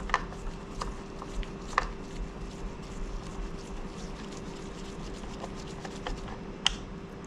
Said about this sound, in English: So I'm going to take off these 2 Phillips screws.